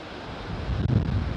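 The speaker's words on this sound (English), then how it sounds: "It's getting windy, the wind's come, meaning rain's coming." Wind gusts roar against the microphone in Phuket ahead of rain, growing stronger and more buffeting partway through, a loud, continuous outdoor rush.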